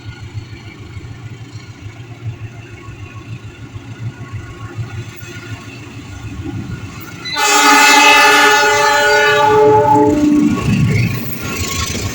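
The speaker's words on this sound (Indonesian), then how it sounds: "KA Pangandaran soalnya akan berhenti dulu di stasiun Sasak Saat untuk bersilang dengan KA 141 Parahyangan. Berjalan pelan nih." KA Pangandaran passenger train creeping slowly near Sasaksaat station in Indonesia: a steady low rumble of wheels and engine, then a loud, sustained horn blast lasting several seconds before easing back to the rolling drone, with no voices.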